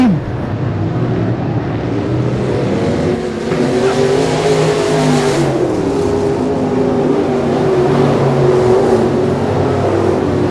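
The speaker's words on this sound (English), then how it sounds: "Jesse Cullen third in the number 8. A new car for Jesse." Race cars roar around a dirt track in a steady, loud engine drone that swells and fades as the field passes.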